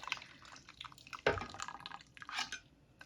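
Whey drips and trickles through a stainless steel strainer while making farm cheese, giving soft irregular close drips and a brief splash, quiet overall.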